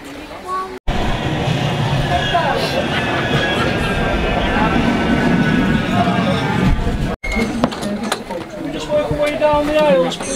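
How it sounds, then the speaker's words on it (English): Train rolling past steadily and close at a marathon course in Greater Manchester, a sustained broad rumble with faint clatter for several seconds amid background crowd babble. "Second train."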